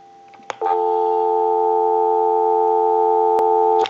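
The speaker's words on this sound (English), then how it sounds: "Go ahead and give you some dial tone." A few receiver clicks on a Western Electric 317 wooden wall telephone, then a steady, unbroken dial tone hums for about three seconds before cutting off with another click.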